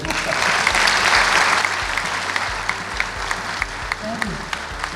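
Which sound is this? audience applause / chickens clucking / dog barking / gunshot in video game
audience applause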